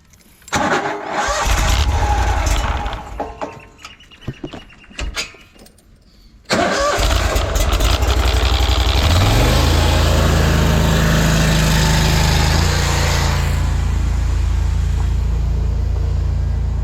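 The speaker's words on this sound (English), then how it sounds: "I'll go turn this jetter on, then we'll go to the street." A drain jetter's engine cranks with a few sputtering tries, falls quiet, then catches and roars into a loud, steady run that holds to the end.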